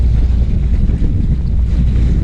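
An outboard boat engine runs on a test trip after an engine swap, a loud steady rumble mixed with heavy wind buffeting and water noise, with no voices.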